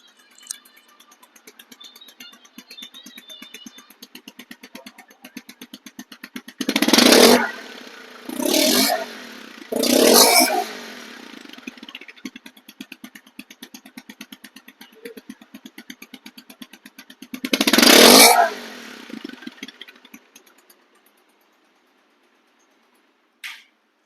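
A 2022 Bajaj Avenger ABS motorcycle engine idles with a steady rattle, then revs loudly in four sharp bursts before cutting off near the end.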